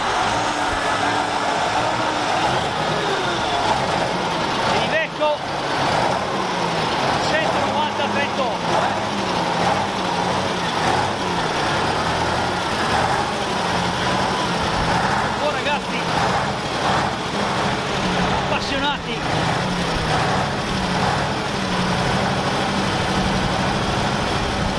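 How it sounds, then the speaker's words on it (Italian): An IVECO 190/38 truck's diesel engine idles with a steady low rumble throughout, its tone shifting slightly now and then, with voices talking nearby over it. "Abbiamo qua la possibilità di sentire il sound."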